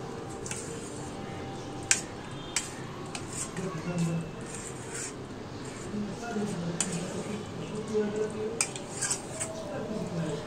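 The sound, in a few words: stirring and mixing chicken curry in a pan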